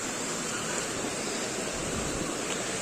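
Small waterfall at a little dam, a steady broadband rush of falling water filling the scene at even, fairly loud level with no breaks.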